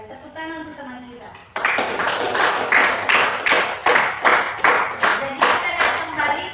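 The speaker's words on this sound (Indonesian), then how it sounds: "Tepuk tangan untuk teman kita" A classroom of students claps for a classmate, with rhythmic unison clapping in steady beats after a brief spoken moment at the start.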